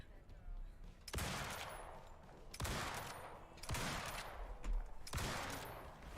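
Five heavy rifle shots fired at a polar bear in the game Eco, each a sharp loud crack followed by a long rolling echo tail, spaced about a second apart.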